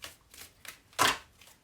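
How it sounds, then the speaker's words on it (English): Tarot cards are shuffled by hand in a few short riffling bursts, soft and close, with one louder snap of cards near the middle and no talking. "I can't shuffle today."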